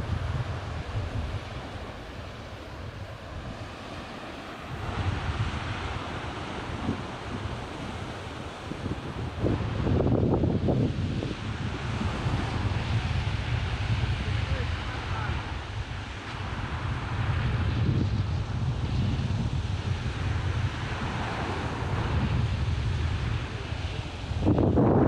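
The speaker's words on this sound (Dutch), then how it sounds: "Dat jullie me een beetje verstaan trouwens met de wind." Strong wind buffets the microphone on an island shore in the Kei Islands of Maluku, a continuous low roar with gusts swelling and easing, surf faintly beneath and a voice talking through it.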